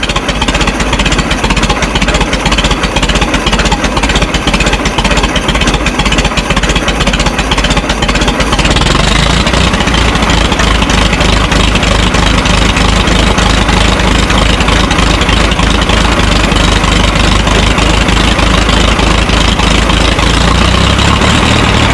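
A Minneapolis Moline Z tractor engine runs loud and close throughout, a rough steady chugging that shifts in tone partway through as the tractor starts driving.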